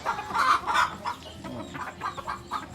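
Jungle fowl and bantam chickens cluck on a farm, with a series of close, sharp clucks and calls in an uneven rhythm.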